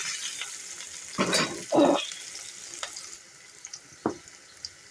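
Medium-sized onions fry in a pan in a village kitchen, a soft sizzle under a few louder bursts of stirring and scraping, with scattered small clinks of the spoon.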